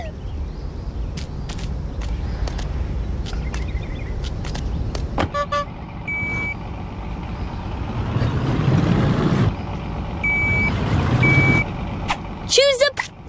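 Rocky's truck in the PAW Patrol World video game, with short electronic beeps and tones over a rumbling engine and game music, plus a brighter chime near the end and spoken voices at points.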